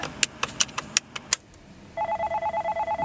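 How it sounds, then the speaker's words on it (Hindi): A telephone line connects: a few sharp tones or clicks sound, then a steady, evenly pulsed ringback tone repeats close and clear, with no voices. "बज गई घंटी"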